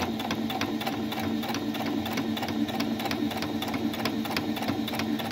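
A Singer Patchwork 7285Q sewing machine runs a basic stitch under steady foot-pedal control, giving a fast, even mechanical clatter with a constant motor hum that holds close and unbroken throughout.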